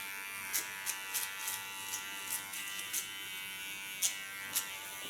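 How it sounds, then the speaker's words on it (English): An electric hair clipper trims hair at the neckline, a quiet, steady buzz with soft, brief bursts as the blade passes through hair at irregular intervals. "don't lean on my clipper, don't force anything on the skin"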